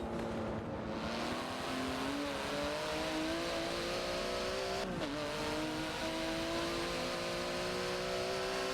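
Race cars lapping Brands Hatch in Forza 7, a steady engine drone with rising and falling pitch as cars accelerate, one brief dip midway, continuous and fairly loud with no talk.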